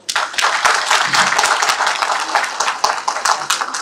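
An audience gives a loud, dense burst of applause, with many hands clapping together in a steady, crowded roar throughout.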